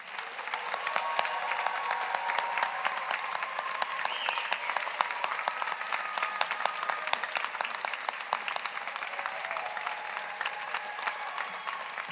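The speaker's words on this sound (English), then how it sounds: "please join with me as we give all these graduates a very well-deserved round of applause." Audience applause at a spring commencement ceremony, a long sustained ovation of many hands clapping with distinct individual claps audible in the steady roar, carrying on for over ten seconds with some faint cheering.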